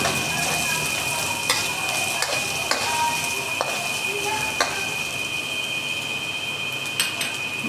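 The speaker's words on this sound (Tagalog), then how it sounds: "Sabay na natin yung ating sibuyas." Onions frying in a pan for chicken adobo made with chicken legs: a steady, close sizzling hiss with occasional sharp clicks and scrapes from stirring.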